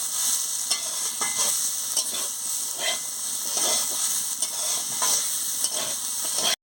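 Pumpkin pieces with chili powder fry in a pan, a constant hot sizzle broken by repeated scraping stirs of a spatula, close and clear, cutting off abruptly at the end.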